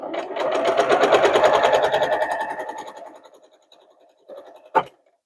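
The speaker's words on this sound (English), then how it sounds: "And sew it all the way up" A sewing machine stitches a fabric bias binding tube in a fast rhythmic run of needle strokes, slowing to a stop, then a couple of quieter clicks and a sharp clunk.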